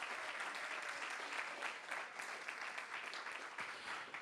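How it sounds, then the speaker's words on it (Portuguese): A church congregation claps together in steady, dense applause that fills the whole stretch at a fairly even level, with no speech over it. "aplauda Jesus"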